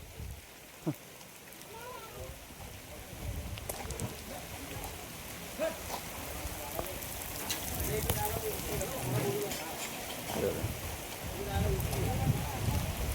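Rain patters steadily on surfaces outdoors at the foot of Raigad Fort, a soft continuous hiss with scattered drops, while people talk faintly in the background.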